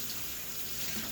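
Hot water pours steadily from a household tap into a sink, a continuous close hiss and splash with no pauses and no talking.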